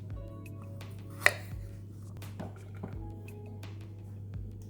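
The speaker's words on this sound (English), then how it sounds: "I'm just slicing off the woody end and slicing them in half" A knife slices peeled garlic cloves in half on a cutting board, giving a few soft, close cuts and taps, one sharper knock among them, over a steady low hum.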